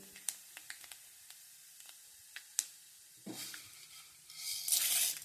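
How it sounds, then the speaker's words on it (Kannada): Mustard seeds and cumin sputter in hot oil, first as scattered faint pops and ticks, then as swelling bursts of hissing sizzle, close and quiet, with no voices. "ಇವಾಗ ಸಾಸಿವೆ ಸಿಡಿದಿದೆ ಜೀರಿಗೆ ಹಾಗೆ"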